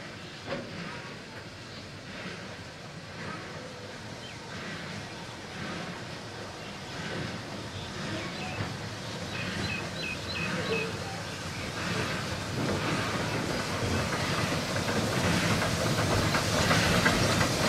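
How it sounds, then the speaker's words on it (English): The Puffing Billy steam train pulls into a station platform. Its hiss and rumble grow steadily louder as it approaches, with faint rail clatter and some voices in the background. "Stand well back from the edge of the platform as Puffing Billy is now arriving."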